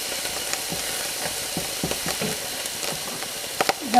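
Beef browns in a hot pan with sugar peas to follow, giving a steady hissing sizzle broken by soft scraping and stirring knocks, close and continuous throughout.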